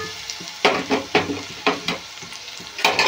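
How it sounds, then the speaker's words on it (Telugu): Onions and green chillies fry in a hot pan, with a steady sizzle broken by several sharp bursts of stirring and scraping at an uneven rhythm, close and fairly loud, with no talking. "ఇప్పుడు దీంట్లోకి ఉల్లిపాయలు వేసుకుందామండి."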